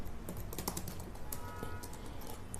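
Quick, dense typing on a computer keyboard as C code is written, with keys clattering continuously and close by in a quiet room.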